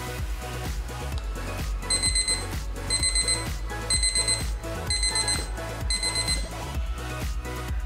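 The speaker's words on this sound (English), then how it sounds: "Switch the alarm on and then tug on the fishing line to make sure the switch works." A homemade trip-wire alarm built from a clothes peg switch and fishing line sounds loudly, with a steady electronic beeping pattern in regular repeated bursts over a continuous background tone.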